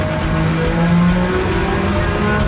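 A turbocharged Nissan Skyline R33 in a racing video game holds a steady, loud engine drone at high revs with shifting tonal whine, continuous and close, with no voices.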